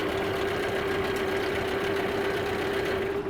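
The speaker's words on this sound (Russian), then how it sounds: "мотор сразу глохнет" Hangkai 9.8 outboard boat motor running steadily at a close, loud idle with a constant hum, the engine still going to the end without an audible stall.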